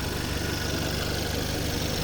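A used 2-liter turbo replacement engine paired with an automatic transmission idles steadily, a continuous broadband rumble with a low hum, close and fairly loud, with no talking.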